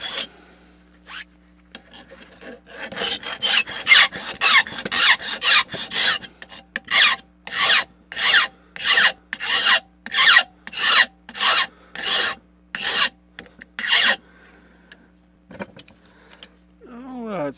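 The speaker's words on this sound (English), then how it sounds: "So now I'm going to start trying to get the shape of the point, so to speak, with a file." Hand file rasping the point of a steel knife blade in a workshop: about a dozen loud, harsh strokes in a steady back-and-forth rhythm, close by, with brief gaps between strokes and quiet before and after.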